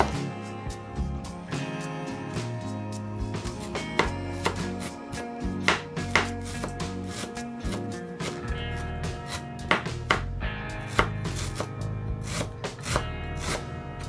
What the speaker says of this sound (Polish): Do siekania używam mojego fantastycznego tasaka.